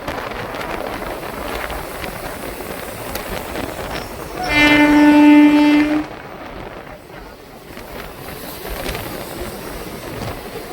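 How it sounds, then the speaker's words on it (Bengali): A passenger train runs along the tracks with a steady rumbling rattle, broken midway by a loud horn blast lasting about a second and a half. "ট্র্যাক সাউন্ড শুনুন শুধু।"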